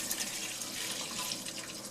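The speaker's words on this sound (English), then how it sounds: "And in the pot goes the milk." A whole gallon of milk pours smoothly into a pot for cheese making, a steady close rushing splash that runs unbroken for two seconds with no talk.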